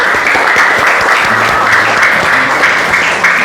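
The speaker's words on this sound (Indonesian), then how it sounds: "Luar biasa, tepuk tangan" Schoolchildren clap together in a primary-school classroom at SD Plus Muhammadiyah Waru, a dense, steady, close burst of applause that lasts the whole moment with no talking over it.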